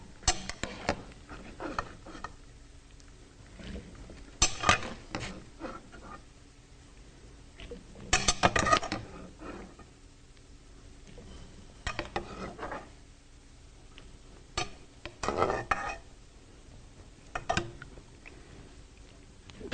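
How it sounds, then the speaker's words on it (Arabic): Okra is lifted and strained out of hot water in a kitchen, producing intermittent clinks and clatters of a metal strainer and pot, with soft watery rustles between the louder knocks. "هخرجها، صفيها من الميه السخنه كده"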